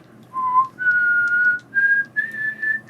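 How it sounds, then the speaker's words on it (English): Eerie low whistle in a film soundtrack, a lone human whistle gliding through a few sustained notes, stepping upward in pitch with short pauses, clear and close over quiet background. "the soundtrack starts with an eerie low whistle."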